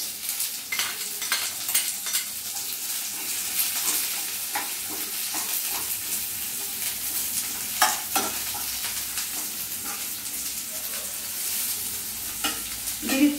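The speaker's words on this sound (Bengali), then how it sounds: "জিরেটা 1 মিনিট নাড়াচাড়া করে তারপর দিয়ে দেব এই যে কুচিয়ে রাখা পেঁয়াজ" Chopped onions frying with cumin seeds in a pan, a steady close sizzle with the occasional scrape and tap of a stirring spoon, running evenly for over ten seconds without talk.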